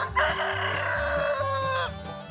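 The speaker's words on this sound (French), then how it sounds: "Et le chant du coq?" A rooster newly settled among hens crows one long, loud, close call that rises and then tails off, over a steady low background hum.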